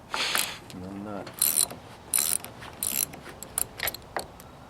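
A 1960s Ariens snowblower mechanism spinning, giving off intermittent mechanical whirring and ratcheting bursts, close by, with short gaps between spins.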